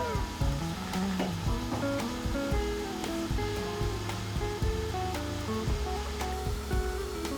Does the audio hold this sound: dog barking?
no